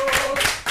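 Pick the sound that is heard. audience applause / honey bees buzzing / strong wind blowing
audience applause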